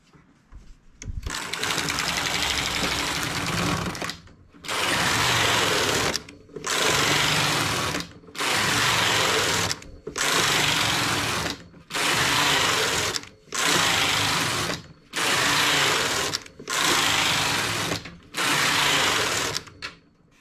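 Domestic knitting machine carriage sliding back and forth across the needle bed, knitting rows for a snug-fitting vest: nine loud, even whirring passes of about 1.5 seconds each, separated by brief pauses, close and with no talk.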